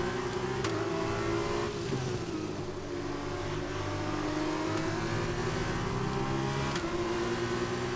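Formula 1 race car in the F1 2021 video game accelerating on a rainy Austrian circuit, a loud sustained high engine whine with shifting pitch as gears change, continuous and close.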